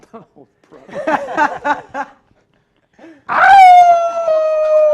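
A high school principal gives a human imitation of a timberwolf howl. It is one long, loud, rising then sustained vocal howl that follows a few seconds of laughing chatter.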